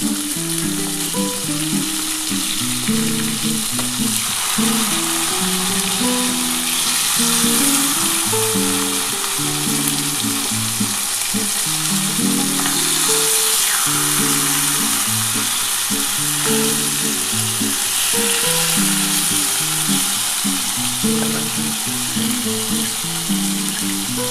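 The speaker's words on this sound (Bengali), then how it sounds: "সেটা একটু লাল করেই ভাজবো মাছটা। এবার আমি বন্ধুরা উল্টে দিচ্ছি।" Pieces of katla fish frying in oil give a loud, even sizzle that holds steady for the whole stretch, with a low melodic background underneath and no talking.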